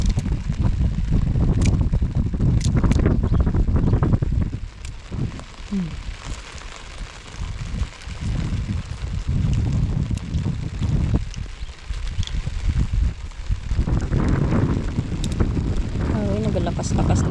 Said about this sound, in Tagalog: naglakas-lakas na yung hangin